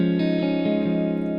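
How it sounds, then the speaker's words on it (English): An electric guitar rings out with a clean tone through a distortion pedal rig with delay and reverb off, a sustained chord with a few quick picked changes, loud and close. "let's check out the clean tone and see where we're starting from"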